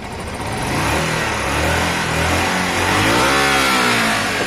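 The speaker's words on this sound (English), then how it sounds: "It's not even warm yet and it's revving like that." A Honda Varadero 125 motorcycle engine, freshly rebuilt with a tuned and balanced carburettor, revs up and down in smooth rising and falling sweeps, loud and close over a steady idle, with no talking.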